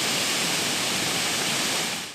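Loud, steady rush of the swollen Corumbá river running high after heavy rain, a dense continuous roar of water with no break and no voices.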